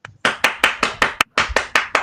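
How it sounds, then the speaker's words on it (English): A single pair of hands claps about ten times at the end of an LD debate final round, sharp, close and fairly steady, with a brief pause partway through. "I believe in clapping."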